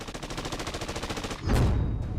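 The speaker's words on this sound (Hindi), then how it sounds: "ईरान में दनादन गोलियां चल रही हैं।" Gunfire during protests in Iran, with police shooting at homes: a rapid, evenly spaced automatic-fire rattle, fairly faint and distant, ending in a heavier, louder burst.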